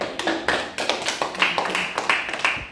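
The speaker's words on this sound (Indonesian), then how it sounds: "tepuk tangan untuk kita semua" A classroom group at a school guidance session claps hands together in a quick, uneven burst of sharp claps, close and fairly loud, without talking.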